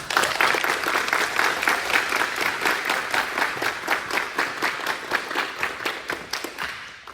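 A crowd claps steadily for several seconds at a cadet awards ceremony, a dense patter of hands that slowly thins and fades toward the end.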